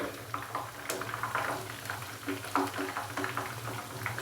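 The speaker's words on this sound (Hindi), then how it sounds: "चिकन पकौड़े को हमने अच्छे से फ्राई कर लिया 5 से 7 मिनट के लिए। तो अभी हम जो चिकन के पकौड़े हैं उसको ऑयल से बाहर निकालेंगे।" Chicken pakoras, boiled first and then fried in hot oil for several minutes, bubbling with a steady, close sizzle and scattered crackles, with no voices over it.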